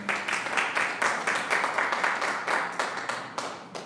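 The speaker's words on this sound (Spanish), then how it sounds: "Denle un aplauso al" Steady applause from a church congregation, many hands clapping in an even, sustained patter at moderate distance with no voices over it.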